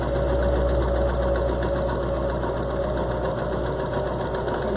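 Sewing machine stitching a reusable cloth surgical face mask, a steady, loud mechanical whir with a dense rapid rattle running without pause throughout, close up and without talking.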